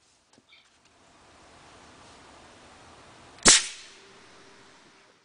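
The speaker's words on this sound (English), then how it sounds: "I'm using a level to make sure that my potato gun is going to shoot perfectly level." A potato gun fires once outdoors, a sharp, loud pop that ends a low steady hiss and is followed by a short fading tail, with a few faint small clicks earlier.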